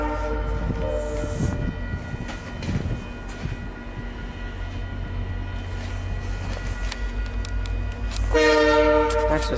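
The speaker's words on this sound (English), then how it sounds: "Another classic on the 88J train, the Bud and LRC mix." VIA Rail passenger train 88, a mix of Budd and LRC cars, rumbles past with a steady rolling roar and rattle, and a loud horn blast near the end.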